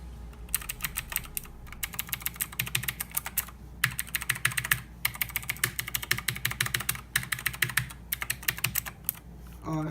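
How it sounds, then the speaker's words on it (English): Rapid, steady typing on a Razer BlackWidow Ultimate 2016 mechanical keyboard, dense clicky keystrokes close up with brief pauses, loud and alone without talk. "Then we got my keyboard, which I'm pretty sure you guys already saw in my last gaming setup. The Razer Black Widow Ultimate 2016 edition."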